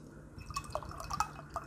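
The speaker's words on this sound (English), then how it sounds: "All right, so let's pour some of this out." Chinese herbal tea, Wong Lo Kat, poured into a glass, with a few soft splashing drips and a faint trickle heard close up and quiet, without any talking.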